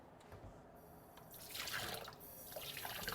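Water runs from a kitchen tap into a drinking glass, starting as faint drips and swelling into a steady, brighter stream that fills the glass, close and quiet.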